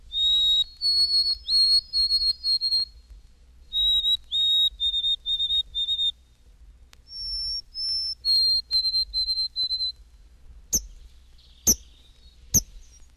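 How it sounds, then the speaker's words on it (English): White-throated Sparrow song from an eastern North American field recording: repeated clear, pure whistled phrases of sustained notes, several songs in a row, followed by a few sharp separate chip notes near the end. "White-throated Sparrow."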